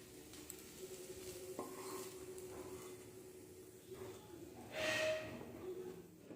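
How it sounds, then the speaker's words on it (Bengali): Fried fenugreek greens are scooped from a pan into a bowl after the gas is switched off, making quiet scraping and stirring with a few soft utensil clinks over a faint low hiss. "এবার আমি গ্যাসের ফ্লেমটা অফ করে মেথি শাকটাকে একটি বাটির মধ্যে তুলে নিচ্ছি।"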